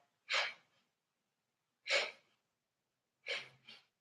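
Slow yoga breaths during a gentle class: three soft, airy breaths spaced a second or more apart in near silence, the last one split into two short puffs.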